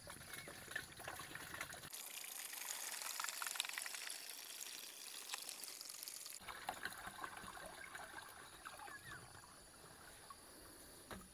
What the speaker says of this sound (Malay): Okey, saya dah tuang